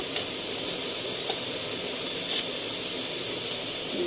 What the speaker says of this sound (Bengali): এখানে জিরে ফোড়ন দিয়ে দিচ্ছে গ্যাসটা একটু জোরে দিয়ে দেবে